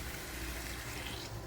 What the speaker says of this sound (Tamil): இப்போ ஈரல் வேகிறதுக்கு கொஞ்சமாக தண்ணி சேர்த்துக்கிறோம்.